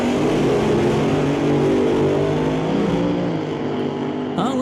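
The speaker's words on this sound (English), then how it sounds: "You'll hear the revs build with pedal clutches on either side." Drag racing cars at an NHRA Northwest National Open Series event rev their engines in the staging lanes, a loud, continuous roar that builds and holds close by, with a higher whine rising at the end.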